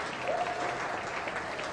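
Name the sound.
audience applause at beef show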